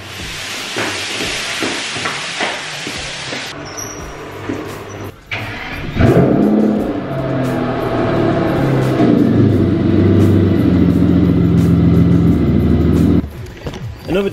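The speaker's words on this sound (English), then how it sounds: "It's an Aston Martin Vanquish, and the vehicle is about to come inside." An Aston Martin Vanquish rolling into an indoor detailing space, its engine starting as a rising rumble that settles into a steady, loud drone before cutting off near the end.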